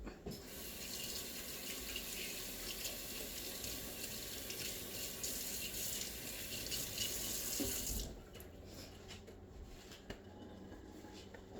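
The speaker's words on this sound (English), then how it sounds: "let me wash my hands" A kitchen tap runs steadily at a sink while hands are washed, a continuous splashing rush that cuts back abruptly near the end to a quieter trickle.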